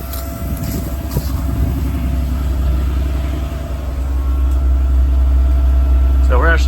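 A car engine left running at about 1300 RPM gives a steady, low idle drone, close and continuous, with faint background clatter and no talk over it.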